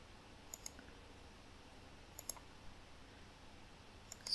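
Faint, sparse computer mouse clicks in a quiet room, a few isolated sharp taps spaced a second or more apart, with no talking.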